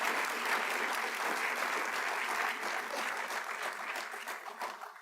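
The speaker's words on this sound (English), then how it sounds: "a good round of applause for her" Applause rises from a high school academic awards night crowd for an absent honoree, a steady fairly soft clatter of many hands that thins and fades toward the end, without voices.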